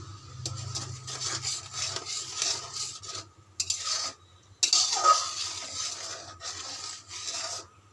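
A spoon scraping and stirring spice paste in a pan for a vegetarian yogurt okra curry, seasoned with a pinch of sugar and salt, with close, rhythmic rasping strokes separated by brief pauses.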